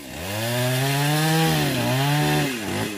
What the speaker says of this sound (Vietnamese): anh Tùng phải cưa làm sao để lấy được hai cái đoạn này nha các bạn.